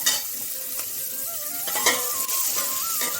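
Onion frying with crushed garlic in a pot for spinach gravy, a close, steady sizzle with scraping spoon strokes and a few light metallic clinks as it is stirred.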